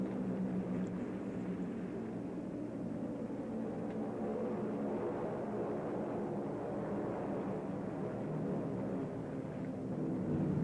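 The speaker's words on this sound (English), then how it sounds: "As the plane approaches the carrier's stern, wheels are down." A carrier plane's engine drones steadily as it approaches an aircraft carrier's stern to land, a continuous rumbling roar with no break, near and loud, during a World War II Philippine campaign.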